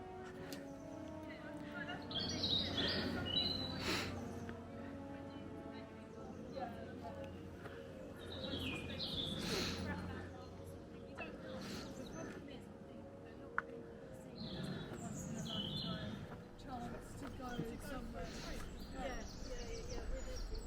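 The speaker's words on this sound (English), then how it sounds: "what birds are they?" Birdsong in a spring bluebell wood: scattered high chirps and tweets drift in and out at a moderate distance, partly masked by people talking nearby.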